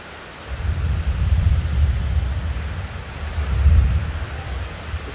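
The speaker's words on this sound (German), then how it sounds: "Blitz und Donner auch" Thunder rumbling during a storm with seawater coming in, two long deep rolls swelling and fading over a steady hiss of wind or rain, loud and heavy in the low end.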